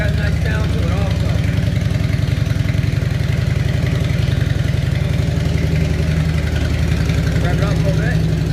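A 1998 Harley-Davidson Electra Glide Classic idles steadily after a cold start, its deep, loping engine rumble loud and close throughout, with a voice talking over it.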